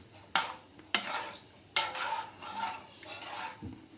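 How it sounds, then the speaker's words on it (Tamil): A spoon scrapes and clanks against a metal pot several times while stirring sambar, with soft stirring and faint bubbling between the strokes. "கொஞ்சம் கிண்டி விடுவோம்."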